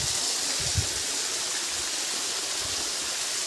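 A rushing waterfall and stream roar as a dense, steady wash of water noise, close and loud, with a few low thumps underneath.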